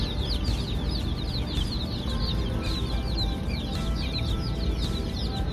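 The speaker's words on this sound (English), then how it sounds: "There's ducks in here." Busy duck chatter fills the space, with steady overlapping peeps and quacks from a group of ducks close by, over a constant indoor hum.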